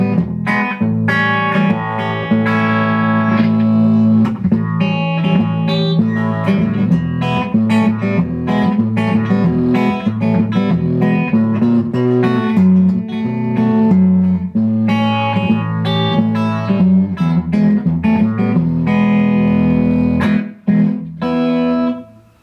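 Electric guitar played through a Danelectro echo pedal set to a short slapback echo, with sustained chords and picked notes ringing steadily and loud, close and alone.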